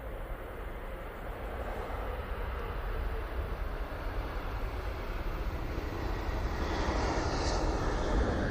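A Boeing 747 airliner lands close by, its engines producing a loud, steady broadband roar with a rushing jet whine that holds continuously throughout, with no voices.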